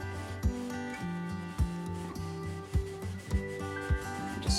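Paintbrush scrubbing acrylic paint onto canvas while painting a stairway scene, a dry rubbing, rasping sound in repeated strokes with soft thumps at each pass, close and fairly quiet, with no talking.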